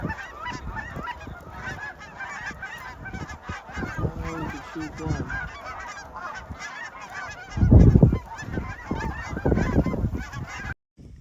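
A large flock of snow geese honks loudly and continuously overhead during a spring snow goose hunt over decoys, their calls overlapping in a dense chorus with no speech.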